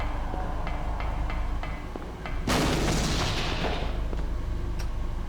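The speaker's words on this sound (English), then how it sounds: "It sounded like a gunshot." A sudden loud gunshot-like blast in the PS1 video game Silent Hill cuts through a ticking, rhythmic ambient background, leaving a long noisy decay.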